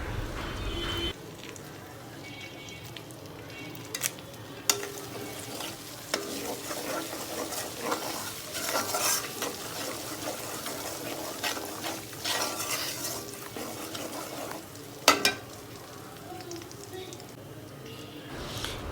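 Cardamom, cinnamon and bay leaves fry in a pan while being stirred for a raw mango sweet-sour pickle, giving a steady sizzle with scraping and clinking spoon strokes close by and a voice speaking over it.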